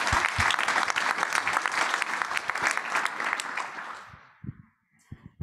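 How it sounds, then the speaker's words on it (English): Conference audience applauding after a talk at a computer systems research session, a steady burst of many hands clapping that fades out near the end, followed by a few faint sounds. "Let's give him one more round of applause."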